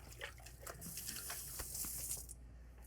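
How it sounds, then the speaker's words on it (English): Tap water runs steadily into a kitchen sink as hands are washed, a soft continuous hiss with faint splashes, fairly quiet throughout. "Let me wash my hand real quick."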